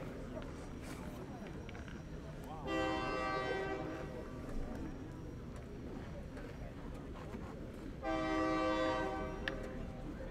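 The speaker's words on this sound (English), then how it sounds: "Honk honk for the train." A train horn sounds twice from a distance at an outdoor pétanque final, each long tonal blast lasting about two seconds, separated by several seconds, over steady background crowd noise and commentary.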